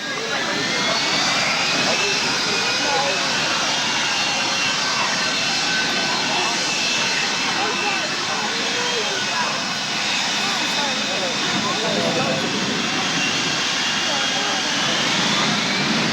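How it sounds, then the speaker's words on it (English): A Harrier jet begins a roller takeoff at a 1988 Biggin Hill airshow, its engine roaring loud and continuous from a distance, with a whining tone sweeping over the broad rumble throughout. "Start of a standard roller takeoff"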